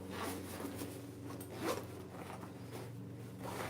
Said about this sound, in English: And even with the zipper, it opens like that.